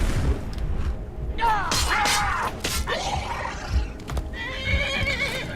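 A horse in the video game Skyrim whinnies loudly several times, rising and falling neighs over clip-clopping hooves and low rumbles, with a brief voice in between.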